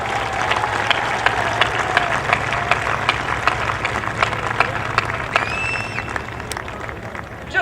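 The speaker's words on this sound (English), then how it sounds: "let's give a big round of applause for Mary Conroy and the staff at Special Olympics New Hampshire" An audience at the Special Olympics New Hampshire Summer Games applauds Mary Conroy and her staff, steady dense clapping filling the space at a moderate level throughout, with a few scattered cheers rising near the end.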